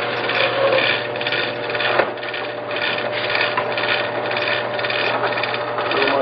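A Forstner bit cuts holes into scrap wood with a steady grinding, rasping drone and a sharp knock partway through, loud and close with no talking.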